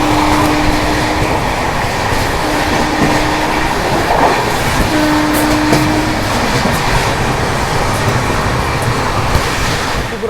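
The Avadh Assam Express runs on rails in India, a loud continuous rumble with rattling carriages and clickety-clack wheel noise, heard from onboard, with a brief tonal hum and no voices.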